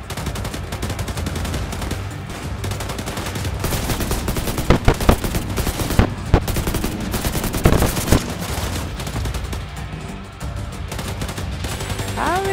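Rapid gunfire from The Division 2 beta fills the scene, with sustained automatic bursts over a dense combat din and several sharper, louder shots standing out midway.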